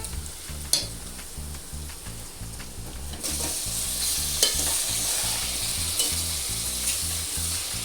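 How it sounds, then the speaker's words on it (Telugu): Chicken is added to onions fried golden in a pan for a chicken curry; a quieter sizzle with stirring scrapes jumps to a louder, fuller hiss partway through over a low, pulsing hum. "ఇప్పుడు చికెన్ వేసుకుంటాము."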